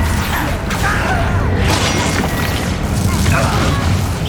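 A Confringo fire spell blasting in the wizarding game Hogwarts Legacy, a dense, roaring burst of explosive noise held loud throughout, mixed with voices.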